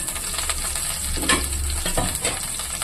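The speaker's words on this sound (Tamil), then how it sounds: "எண்ணெய் காஞ்சிச்சு, சீரகம் போட்டுக்கலாம்." Cumin seeds crackle in hot oil in a kadai, a dense, steady sizzle with a brief stir or scrape partway through, close and fairly loud with no voices.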